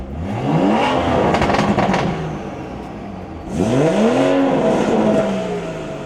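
A BMW 340i with a B58 engine revs hard twice in close succession, each pull rising sharply then falling away into burbling, loud and nearby with no talk.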